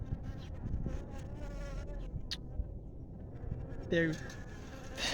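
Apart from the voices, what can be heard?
bees buzzing around, attracted to Mountain Dew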